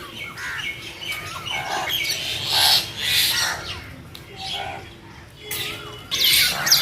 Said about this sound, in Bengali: দেখো কেমন কিচির মিচির লাগিয়ে দিয়েছে